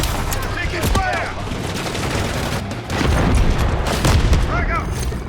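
Heavy gunfire and booming explosions roll through a Modern Warfare 3 match, dense and continuous with rapid bursts, while voices call out over the din.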